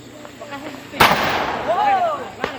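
A homemade bamboo cannon fires one sharp, loud blast partway through, followed by a rumbling decay and a second, fainter pop near the end, with distant voices audible.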